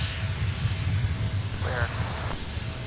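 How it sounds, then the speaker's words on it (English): A KLM airliner taking off from the south parallel runway at Minneapolis–St. Paul airport, its engines a steady distant roar with wind rumble, under radio chatter. "Let's take a look at KLM's departure off the south parallel runway, headed back to AMS"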